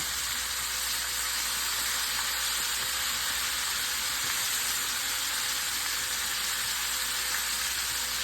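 Sous vide chicken wings fry in a pan with a steady, dense sizzle and hiss that holds even and close throughout, with no voices.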